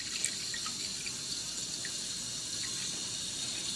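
Tap water runs steadily into a bowl, a continuous soft hissing splash at low level with no voices.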